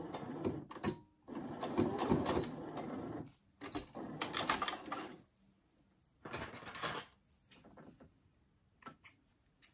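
A sewing machine stitches a seam on a fabric banana bag in several short bursts of quick mechanical whirring, separated by brief pauses, fairly faint and close.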